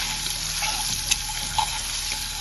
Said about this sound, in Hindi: अब फ्राई कर लेंगे अंडे को। अंडों को फ्राई कर लेंगे,